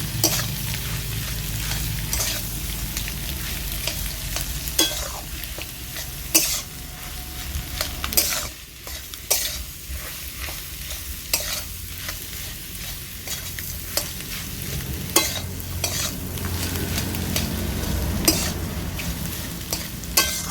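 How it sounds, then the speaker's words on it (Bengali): Mashed green banana, boiled potato and boiled egg are stirred in a pan, with repeated scraping strokes over a soft steady sizzle and a brief quieter pause midway. "কিছুক্ষণ এটা আমি নেড়ে চেড়ে নেব"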